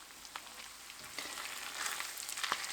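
Canned bacon fries in a pan, giving a quiet, steady crackling sizzle with scattered pops and stirring sounds, heard close up with no talking.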